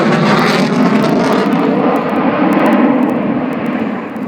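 A Polish Air Force MiG-29 Fulcrum jet performs at the Royal International Air Tattoo at Fairford in 2012, its loud, steady engine roar filling the air and easing slightly toward the end.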